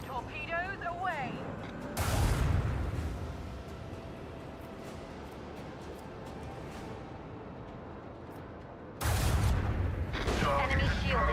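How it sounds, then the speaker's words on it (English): Torpedoes launching and detonating in a space combat video game: a loud, broad blast, a long rumbling stretch, then a second loud burst near the end, with a voice talking over parts of it. "Torpedoes away."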